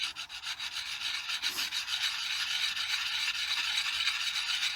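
An axe with a nicked edge rubbed steadily against the coarse side of a sharpening stone, a continuous close, even rasping scrape with quick back-and-forth strokes and no pauses.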